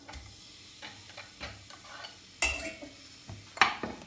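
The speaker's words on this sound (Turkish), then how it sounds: "Hemen soğanı tencereme atıyorum." Onions sizzle in a hot pot while a utensil stirs and scrapes, with intermittent clinks against the metal.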